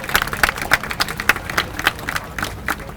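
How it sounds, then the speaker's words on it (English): A small crowd at an outdoor community class in the Bronx claps in scattered, uneven bursts, individual hand claps close by and distinct rather than a smooth wash, with some faint crowd murmur behind. "Give yourself a round of applause for that."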